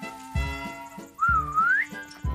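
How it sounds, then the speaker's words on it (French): In a cartoon circus scene, a master whistles to call his animals: a single clear rising whistle over a steady backing of rhythmic music with regular low thumps. "Notre maître nous siffle."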